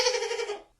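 A goat gives a single short, wavering bleat, fairly loud and close, lasting under a second and trailing off into silence.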